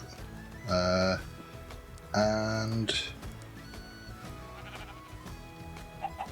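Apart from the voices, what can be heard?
sheep bleating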